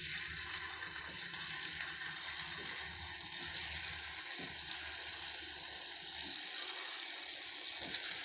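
Marinated cauliflower pieces for cauliflower 65 go into hot frying oil, giving a steady bright sizzle and hiss throughout that swells slightly toward the end, with no talking.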